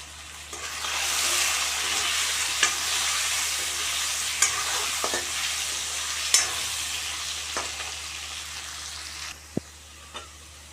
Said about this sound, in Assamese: প্ৰথমতে আমি আলুখিনি ভাজি ল'ম।